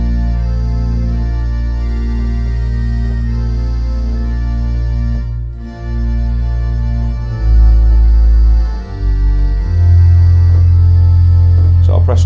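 Pipe organ stops selected with mechanical registration levers sound as a loud sustained chord with deep bass pipes, the timbre shifting as registrations change partway through; a voice is faintly present.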